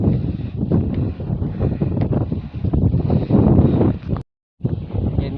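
Wind gusting steadily across a coastal spot, buffeting the microphone with a loud, continuous low roar that drops out briefly near the end before resuming.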